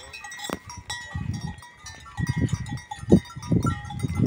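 Goats of the Caatinga bleat repeatedly at close range, several overlapping calls rising over a busy rural background of chirps and bells, with no talking.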